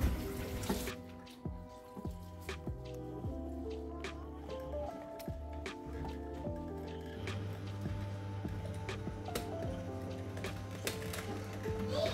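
Running water from a tap splashes and gurgles steadily as green vegetables for Nigerian black soup are washed in a kitchen sink, close and continuous, with no speech.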